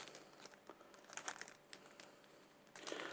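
Plastic packaging from a Temu order of unusual tool bits crinkles and crackles as it is torn open, a steady close rustle with a louder burst near the end.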